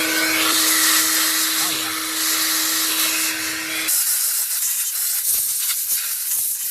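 Loud, steady compressed-air hiss blasts loose junk out of an engine part on a 1984 Pontiac Fiero that sat unused for 30 years, cutting off abruptly partway through and leaving quieter rustling and handling noises.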